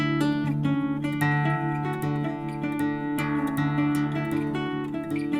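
A guitar plays a major scale as a short run of single notes stepping up, clear and close, with the notes ringing into each other and no talking.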